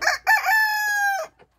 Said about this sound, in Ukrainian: Із тих, що підростають курочок, в мене біліфельдери, маліни, українська зозуляста